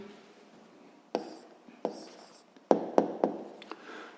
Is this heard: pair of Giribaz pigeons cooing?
no